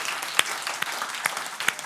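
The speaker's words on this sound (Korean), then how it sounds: "우리 하나님께 영광의 박수 한번 하고" A church congregation applauds together after a sermon, a steady wash of clapping with a few sharper claps standing out, moderately quiet and without talk.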